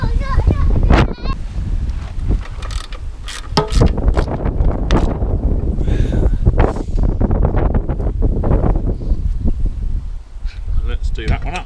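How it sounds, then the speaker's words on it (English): Strong wind buffets the microphone outdoors in loud, uneven gusts that roar and drop away, with a few faint voices mixed into the rushing noise. "Very windy."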